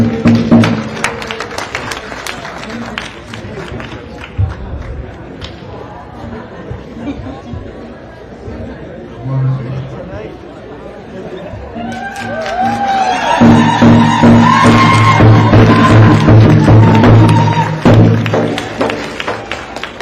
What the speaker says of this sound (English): big congratulatory round of applause for Trey